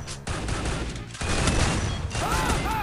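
Trogon rifle fire in a Free Fire match comes as a dense, loud burst of rapid shots that runs almost without pause, with a short lull partway through and some game effects layered over the shooting.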